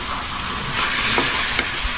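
Onion and garlic sauté in a pan with a steady close sizzle and occasional stirring scrapes, no voices.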